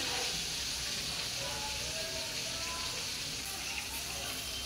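Whole radhuni seeds tempering in hot oil give off a steady, hissing sizzle that stays even and close throughout, with no voices.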